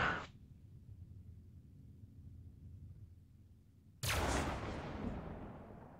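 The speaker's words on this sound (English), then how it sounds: "Oh, that's me just firing off a couple shots for show." Hammerhead ship weapon fires in a Star Citizen battle: a brief blast cuts off at the start, then after a quiet hum a loud, heavy booming shot lands and rolls away in a long decaying rumble.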